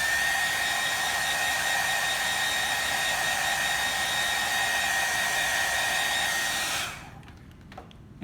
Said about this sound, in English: I can expedite the drying process with hair dryers.